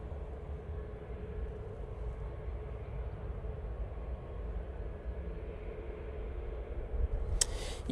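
A plane departs Manchester Airport on a steep climb-out, a steady, broad engine roar heard from a distance that stays even throughout, with no voices.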